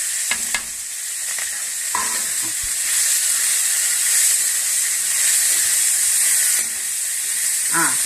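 Curry leaves and coriander being lightly sautéed in a pan for a chana dal chutney, giving a steady close sizzle and hiss with a few soft stirring knocks, and no talk.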